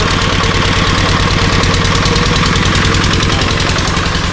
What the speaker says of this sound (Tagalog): Dati ganyan kalakas yung makina.